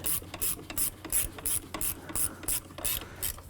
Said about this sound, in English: Using a ratchet wrench or your regular wrench, go ahead and you just want to bottom this out